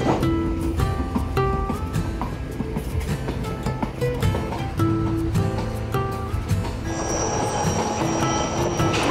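A Peru Rail train rolls into Puno on the Lake Titicaca line, with a steady rumble of wheels on track, repeated clacks and metallic squeals throughout, heard from on board with no talk.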